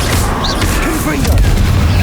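Confringo spell blast in the video game Hogwarts Legacy, a loud close booming burst with rumbling low end and magical whooshing over game sounds.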